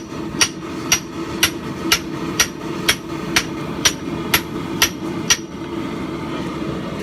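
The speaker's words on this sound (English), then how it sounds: "So all that's left now is crimping this eye to shape." A hammer strikes hot steel to crimp an axe eye around a tomahawk mandrel held in a vise, about eleven crisp, evenly spaced ringing blows close by, then a short pause.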